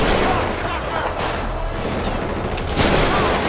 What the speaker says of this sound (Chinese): 我又遭到射击